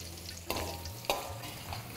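Cashews and raisins fry in ghee, a soft close sizzle punctuated by two sharp metallic scrapes of a spoon stirring the pan.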